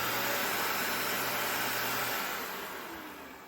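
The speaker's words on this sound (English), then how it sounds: "The vacuum should turn on and off just like that." A Dyson Ball Animal 3 vacuum cleaner runs with a loud, steady broadband whoosh close by, then its motor winds down and fades toward the end.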